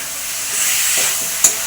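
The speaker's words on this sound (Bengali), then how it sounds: "আলু কটা আগে কষে নিচ্ছি ভালো করে" Potatoes sautéing in a pan make a continuous close hiss and sizzle, with a sharp clink of a utensil near the end.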